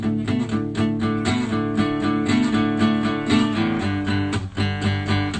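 Strummed guitar chords alternate with low bass notes in a driving, steady rhythm, played close and loud without any voices.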